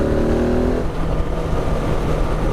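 A 2019 KTM 690 Enduro R motorcycle engine pulls hard under torque, a steady close drone with a rising harmonic whine that fades out after the first second, no talking.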